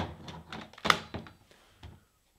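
An airsoft MP5 gives a few quiet plastic clicks and one firmer clunk as the magazine release is pressed and the magazine comes free, close up with light handling noise around it.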